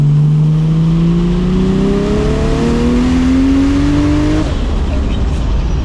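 A loud BMW E92 M3 engine pulls hard in third gear, its pitch rising smoothly and steadily for several seconds before easing off, with a voice faintly underneath.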